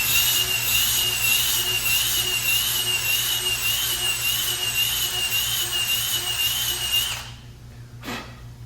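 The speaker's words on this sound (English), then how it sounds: "Still got a little bit of sanding to do." Power sander working on the seat post hole of a GT Performer BMX bicycle frame, a loud steady whine running continuously for about seven seconds, then cutting off, with a brief faint knock afterward.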